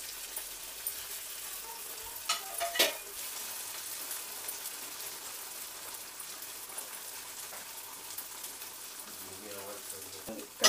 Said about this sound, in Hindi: नॉर्मल मीडियम गैस पर इसको हमें फ्लेम पर हम टिक्कियों को डाल देंगे और इनको पहले हाफ फ्राई कर करके निकाल